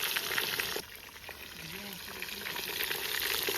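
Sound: meat searing in small batches in a kazan

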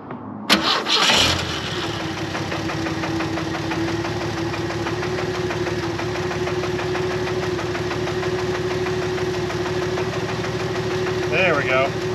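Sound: fuel pump pulsing as engine tries to start

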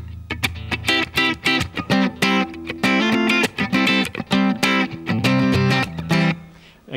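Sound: guitar parts using inner voicings and triads

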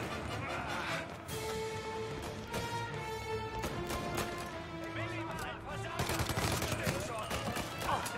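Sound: Thompson submachine gun firing in Mafia Definitive Edition video game

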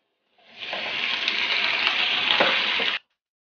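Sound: meat frying in pan with onions

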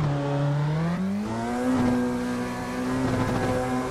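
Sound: Nissan R35 GT-R accelerating in first gear, racing simulator game

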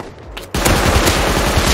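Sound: Python revolver gunfire in video game Rust

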